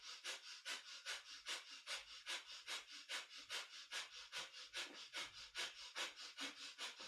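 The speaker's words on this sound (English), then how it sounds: "If breath of fire feels a little bit too strong for you today" Breath of fire in kundalini yoga, fast rhythmic nasal breathing with sharp even pumping exhales repeating steadily throughout, close and alone.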